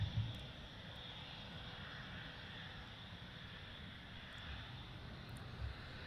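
Military jet taxiing on the ground at RAF Lakenheath, a steady broadband engine roar at moderate distance with a faint high whine, holding fairly constant throughout.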